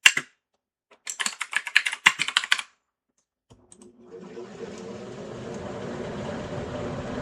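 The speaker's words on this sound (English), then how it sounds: "You won't see what I'm typing," Fast bursts of clicking keystrokes on a computer keyboard, close and crisp, come in two short runs separated by silence, followed by a steady low hum as an air conditioner switches on.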